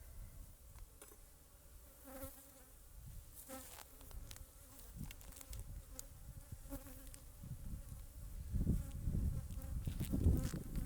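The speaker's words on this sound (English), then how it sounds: "I think these bees look pretty good. They're not quite boiling over." Honey bees buzz at an open hive in a Savanna apiary during a spring check of splits, a steady insect drone with a few louder passes near the end, alone without talk.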